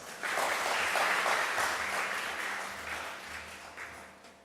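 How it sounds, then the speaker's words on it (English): A symposium audience at a hydrogen metallurgy event applauds in a sustained, even wash of clapping that starts abruptly and slowly fades toward the end, with no voices over it. "Please give a warm applause for us."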